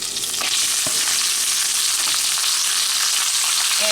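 Ground pork fries loudly with salted pork in a pan, a dense continuous sizzle right up close with faint occasional stirring scrapes.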